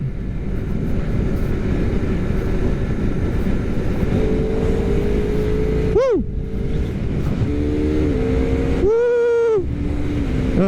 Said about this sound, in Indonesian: Kita coba geber dikit.